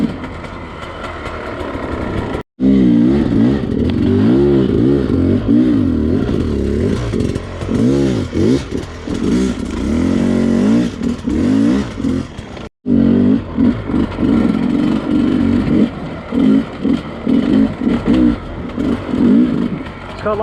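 A Sherco 250SE dirt bike engine runs steadily while being ridden, with a loud, continuous drone and rising and falling revs, broken by two brief cutoffs.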